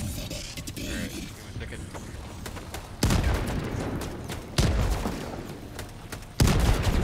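Gunfire from Helldivers 2 as players shoot at mines, with rapid bursts of shots and three sharp loud blasts detonating in sequence amid mechanical clatter and creaks.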